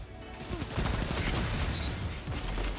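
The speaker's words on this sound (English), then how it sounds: "Look at this SMG popping off." Rapid automatic SMG fire in an online shooter video game, a dense continuous burst of loud close gunshots with mechanical clatter running the whole moment without pause.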